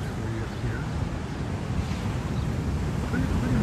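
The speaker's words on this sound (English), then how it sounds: "Pretty much good waves coming today." Big ocean surf at a lifeguarded beach flying red warning flags, a steady loud roar of breaking waves mixed with wind buffeting the microphone, continuous with no talking.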